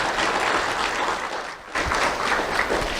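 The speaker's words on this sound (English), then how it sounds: "Let's have a big round of applause for our big sponsors." Steady audience applause at an awards ceremony, a dense even wash of many hands clapping throughout, with a brief dip midway before it swells again.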